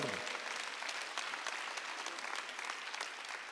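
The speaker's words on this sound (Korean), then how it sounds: "믿는 사람만 박수 한번 하세요" Church congregation clapping together during a Sunday worship service, a brisk, dense burst of hand claps filling the room, fairly close and steady throughout.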